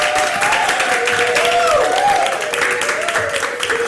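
Audience applause at a Christmas family show, a steady dense clapping from a crowd while a voice speaks and calls out over it near the microphone.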